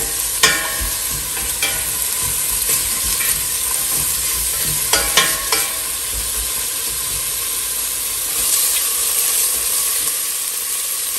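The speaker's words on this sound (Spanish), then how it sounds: "mi cebolla. La vamos a sofreír muy bien." Chopped onion sautéing in a frying pan gives a steady, loud sizzle and hiss throughout, with a few sharp scraping stirs near the start and middle.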